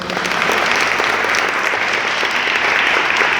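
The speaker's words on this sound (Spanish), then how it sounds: "la recibiremos con un cálido aplauso, por favor" Steady, dense applause from a crowd fills the whole stretch, loud and even without pauses.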